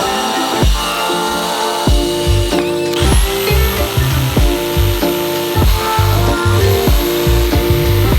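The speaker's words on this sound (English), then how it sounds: "then used my jigsaw to cut out the rest of the square" A jigsaw cuts through a shiplap board around a light switch opening, its blade buzzing loudly and continuously with a rapid chattering stroke, the pitch dipping and recovering as it bites into the wood.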